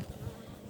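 A low, steady drone of honey bees buzzing around an open hive, close and continuous with slight swells in loudness, no voices present.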